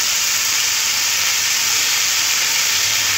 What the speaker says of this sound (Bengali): আবার একটু ভেজে নেব।